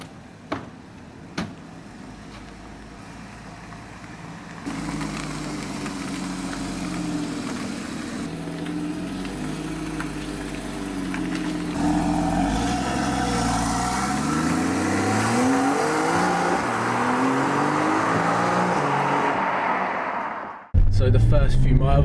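A Porsche Boxster S idles, then its engine rises steadily as the car pulls away and builds speed, a continuous close hum under occasional talk, cutting off abruptly near the end.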